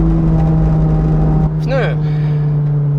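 Honda Civic FD2 Type R at the Nürburgring, heard from inside as a steady engine drone with a strong low hum, then a brief rising-and-falling whine midway as revs shift.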